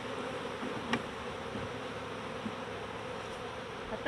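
Angry bees swarm around a beehive, a dense steady buzzing close by and moderately loud, with a few brief knocks and no speech.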